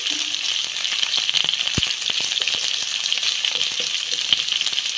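Salted potatoes fry in hot oil, giving a close, continuous crackling sizzle with scattered sharp pops and an occasional clink of a utensil.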